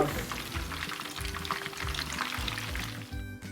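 Prawns fry in a pan with a steady, dense sizzle and crackle that runs the whole time at close range, with no talking.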